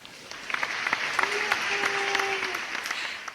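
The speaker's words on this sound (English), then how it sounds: "Round of applause." A round of applause, steady even clapping from a crowd at moderate level, with a brief tonal sound passing over the middle.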